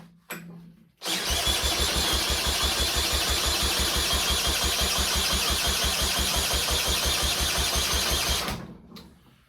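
A torpedo engine is cranked with a little fuel in the barrel and does not fire, a loud, rapid, even chugging of the starter that runs for about seven seconds, then cuts off abruptly, close up with nothing else over it.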